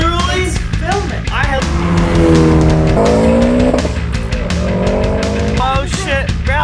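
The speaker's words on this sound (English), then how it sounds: "Oh shit, rally car." A rally car passes close by, its engine revving and wailing through shifting pitches with squealing tires, loud and sustained over several seconds.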